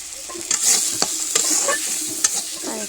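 Cabbage curry being stir-fried in a pan, with a steady sizzle broken by several sharp scrapes and clacks of the stirring spoon, close and fairly loud, no voices.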